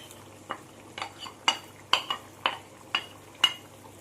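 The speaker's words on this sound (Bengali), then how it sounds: "মাছগুলো দিয়ে আমি ভালো করে মশলার সাথে এরকম করে মিশিয়ে দেবো।" Fried prawns being stirred into a bubbling spicy gravy over high heat, a spoon scraping and knocking the pan in about eight regular, close strokes roughly every half second, with no talk.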